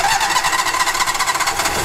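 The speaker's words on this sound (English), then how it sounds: "we're going to start the generator up" A Cummins Onan QG 5500 LP generator engine, already warmed up, cranks and runs with a steady, loud mechanical drone close by, with no talk over it.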